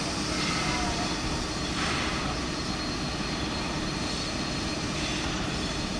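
Locomotive 3016 pulling out of a station as a steady, loud rumble and roar of engine and rail noise, continuous and unbroken throughout.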